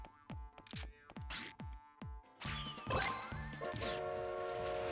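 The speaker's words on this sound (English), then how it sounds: "That just respawns the train so you go from zone to zone." Video game train sounds in Ape Escape 3 as the train respawns: a series of sharp, clanking hits, then a sustained whistle-like horn tone and rolling rail noise that continue steadily to the end.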